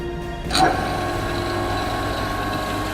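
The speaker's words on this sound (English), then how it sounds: "let's slow the lathe down and see what happens when I run it. This is 670 RPMs." A wood lathe spinning a burnishing mop at 670 RPM gives a steady low motor hum with a faint whine, starting with a brief clunk and then holding even and continuous.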